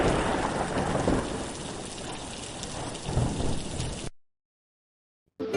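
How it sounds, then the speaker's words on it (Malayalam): Heavy monsoon rain pours down outdoors in a dense, continuous roar with a low thunder rumble, then cuts off abruptly into silence before a brief return at the very end. "പുറത്ത് നല്ല കോരിച്ചൊരിയുന്ന മഴയാണ്."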